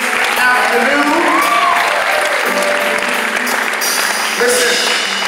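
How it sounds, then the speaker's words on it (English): Church congregation clapping hands together in sustained, dense applause that fills the space, with a voice speaking over it. "If you receive that, would you clap your hands today?"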